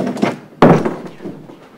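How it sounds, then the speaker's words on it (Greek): A door swings shut with a solid wooden thunk in an indoor room, one loud close impact following quieter shuffling and handling sounds. "Κλείς την πόρτα"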